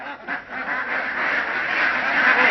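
Mallard ducks raised on a Korean farm quack continuously, a busy overlapping chorus of calls at moderate distance with no talking.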